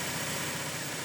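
A 2.4L Toyota Tacoma engine idles after an oil change, a steady, even rumble heard close and continuous for a brief moment.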